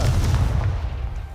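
A Confringo fire spell blasts in a video game, a deep booming burst that rolls and fades over about a second, loud and close.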